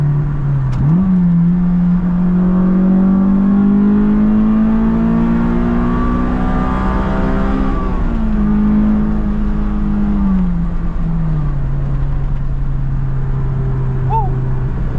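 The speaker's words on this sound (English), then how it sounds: "Been a while since I hit VTEC." A Honda S2000 engine pulls steadily, its droning note climbing in pitch as it revs up into VTEC and then easing back, loud and close from inside the car, with people talking over it.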